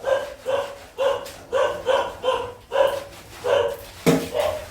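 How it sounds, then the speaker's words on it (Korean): A dog barks loudly and repeatedly at close range, about nine sharp, evenly spaced barks with a brief higher yelp near the end, no speech. "순이가 저렇게 크게 짖나? 딴 개가 왔나?"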